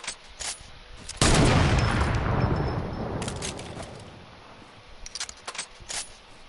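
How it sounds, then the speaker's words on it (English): Video game gunfire: a loud burst of shots cracks out and rings away over a couple of seconds, followed by fainter, scattered metallic pops and clicks. "Can you hear my shots?"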